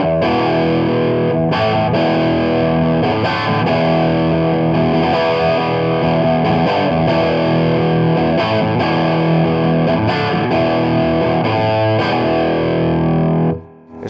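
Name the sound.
electric guitar playing chords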